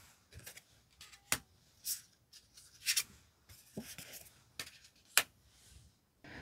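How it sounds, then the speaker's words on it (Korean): Tarot cards being picked and laid down, a sequence of short sharp card slides, flicks and taps at irregular intervals, close and fairly quiet with faint background between them. "다음으로는 3번 분의 마음이 어떠신지 카드 5장을 선택해 볼게요."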